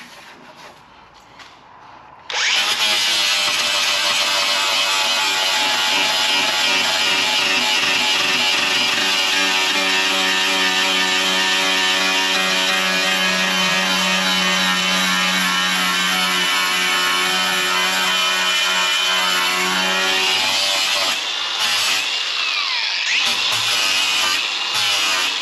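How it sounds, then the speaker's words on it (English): Angle grinder running continuously on weld material on a Ford Transit van body, a loud, steady high-pitched whine with harmonic drone lasting about eighteen seconds before winding down near the end. "I'm just grinding away this material"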